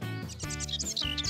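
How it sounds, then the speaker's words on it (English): Cartoon birds sing together in a bright, busy chorus of rapid chirps and tweets over a layered musical backing, loud and close, with no talking. "the birds sound beautiful"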